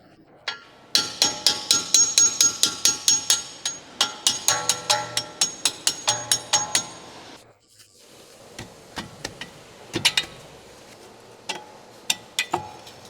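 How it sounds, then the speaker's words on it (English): Rapid metallic ball-peen hammer taps in steady bursts, close and sharp, tapping out a strut-to-knuckle bolt on a 2012-2016 Chevrolet Cruze, followed by a pause and then scattered lighter strikes. "Use a ball-peen hammer to tap the bolt out and remove it."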